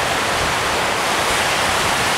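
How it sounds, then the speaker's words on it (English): Strong wind and surf on Lake Erie near the Cleveland shoreline, a loud, constant rushing roar of wind and breaking waves with no pauses. "the wind's so strong, we have surfers"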